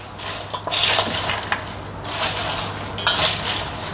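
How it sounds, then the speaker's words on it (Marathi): Sabudana makhana chivda being tossed and mixed in a pan, with repeated metallic scrapes and clinks of a spoon against the pan coming in uneven bursts over a steady background hiss. "आता याला आपण मिक्स करूया."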